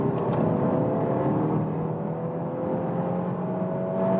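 BMW 2 Series Active Tourer in sport mode accelerating from 80 to 120 km/h, a steady loud engine drone and road roar heard from inside the cabin, rising slightly in pitch.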